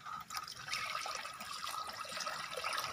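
Water is poured into a drinking container for Muscovy ducks, a steady splashing, trickling flow that runs close and fairly loud for about three seconds with no talking.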